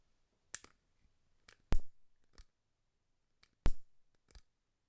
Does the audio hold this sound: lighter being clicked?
yes